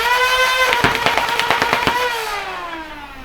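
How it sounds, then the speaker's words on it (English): A flywheel foam dart blaster empties its magazine, about eight darts fired in a quick burst. The flywheels whine steadily and loudly, and sharp thumps cut through as each dart leaves. The whine then winds down slowly once firing stops. "Now we're going to mag dump the remaining contents of the mag."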